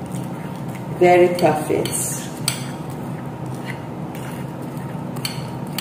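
Grain mixture being stirred with oil in a bowl, a few clinking scrapes of a utensil against the dish followed by soft steady mixing, with a short spoken remark.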